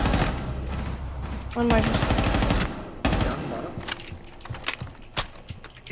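Rapid video-game gunfire in bursts, loud and close, with clustered shots and sharp single cracks toward the end; a voice talks briefly over it.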